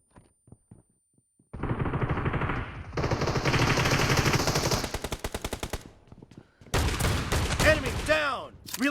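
M1014 shotgun fire in a video game team match on the hanger map comes in loud, rapid bursts of close shots. Pauses separate the bursts, and in-game voice callouts are heard around them.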